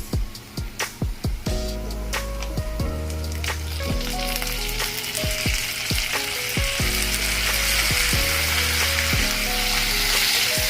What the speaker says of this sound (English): The onions are now nicely golden brown, so we're going to add the tomatoes.